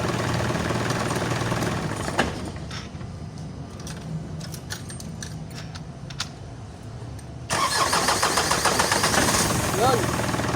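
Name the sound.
Isuzu 4HL1 diesel engine running after starting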